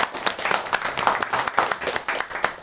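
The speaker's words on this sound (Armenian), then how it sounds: "եկեք ծափահարություններով ամփոփենք" Audience applause at the close of a library event, a dense steady wash of many hands clapping for a few seconds, fairly close and loud with no voices over it.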